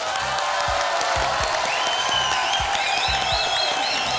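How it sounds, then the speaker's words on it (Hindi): Studio audience applause on a Hindi television quiz show, steady dense clapping with some cheering, loud and sustained throughout. "तालियां!"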